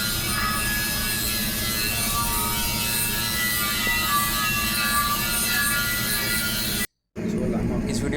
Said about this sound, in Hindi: ये अभी बेवल पे ग्राइंडिंग हो रही है